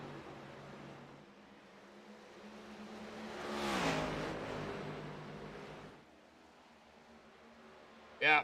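Race cars in a sim racing game scream down into turn one, their engine whine rising to a loud peak as they pass and then fading away, with a brief sharp burst at the very end.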